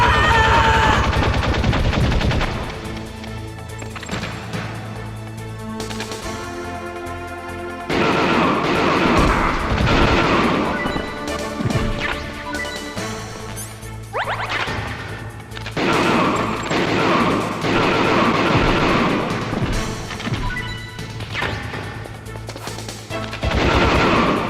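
Gunfire in the stealth action game Metal Gear Solid, repeated loud bursts and shots layered with crashes and game music over a long stretch, with no talk.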